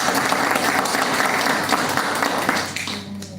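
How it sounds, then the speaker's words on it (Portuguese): Audience applause at a lecture event, steady, dense clapping from a crowd filling the room, loud and continuous before tapering off near the end. "Pessoal, Obrigado. vamos aplaudir, muito obrigada."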